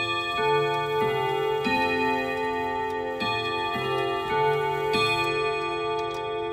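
An Odo 54/10 chime clock plays the Westminster melody, bright sustained bell-rod tones struck one after another in a steady stately rhythm, ringing close and clear with long overlapping decay.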